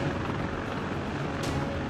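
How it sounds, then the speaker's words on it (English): A Sikorsky CH-53 Super Stallion heavy-lift military helicopter gives off a continuous, loud, broad rotor and engine roar that holds steady throughout. "Here, you can see one of the U.S. military's very best heavy lifting helicopters in action,"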